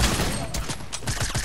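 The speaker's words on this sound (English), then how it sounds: "Stop shooting at me!" Rapid video-game gunfire rattles off in a dense volley of sharp, close shots that barely pause across the moment, loud over a busy background.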